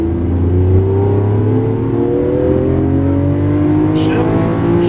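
A 2012 Lamborghini Aventador in Verde Ithaca accelerates smoothly out of a turn on a track at Las Vegas Exotics, engine pitch climbing steadily in a loud, continuous rising drone.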